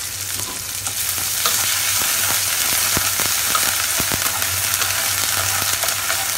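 Onion and ginger-garlic paste fry steadily in hot oil, a constant loud sizzle with scattered crackles and the scrape of stirring, no voices.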